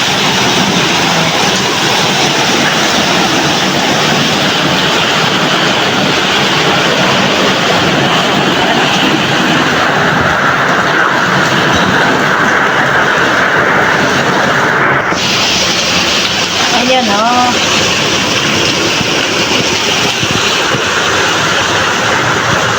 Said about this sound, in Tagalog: Ayan guys, may ulan dito sa UAE.